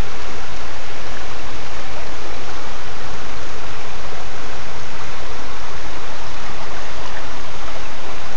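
Steady broadband rush of a stream flowing through approved stock trout water on a scenic trail, continuous and fairly loud with no voices.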